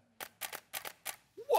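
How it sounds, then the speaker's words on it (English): A camera shutter clicks five times in an uneven rhythm during manual shooting, crisp close mechanical snaps, followed by a voice starting to speak. "I just need to listen to my shutter"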